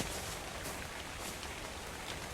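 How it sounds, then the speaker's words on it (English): Steady rain in the video game Ark: Survival Evolved, an even broadband hiss of falling drops that holds at a constant level throughout with no talk over it. "And it's raining again."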